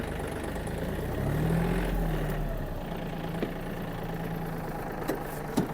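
A Yanmar AF-324 mini tractor's engine idles and rumbles steadily while being repositioned, a low continuous drone with a brief swell in revs early on and a few small knocks later.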